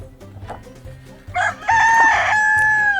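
A rooster crows once, loud and close, with a bright sustained call that rises and holds before trailing off, preceded by faint clucking and soft background rustle.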